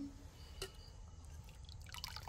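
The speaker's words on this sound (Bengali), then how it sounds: "আওয়াজটা কি হচ্ছে টলটলে? টলটলে ঝোল, হ্যাঁ আওয়াজটা দেখি।" Thin chicken curry gravy pours in a faint, soft trickle, with a few quiet drips close by.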